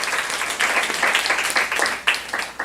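A church congregation claps together during a Saturday worship sermon, a dense, sustained burst of many hands that swells and stays loud throughout.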